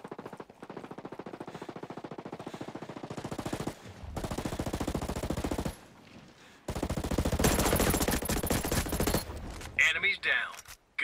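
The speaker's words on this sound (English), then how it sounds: "Hostiles are shooting." Rapid automatic gunfire from the video game Call of Duty Cold War, long sustained bursts of dense machine-gun fire separated by short gaps, loud and close, with game voice callouts mixed in.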